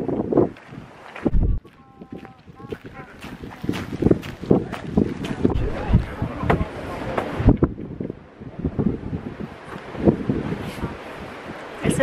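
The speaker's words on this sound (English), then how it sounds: "So cold and windy." Cold, gusty wind buffets the microphone with low rumbling roars in the Biltmore gardens, while people talk and move nearby outdoors.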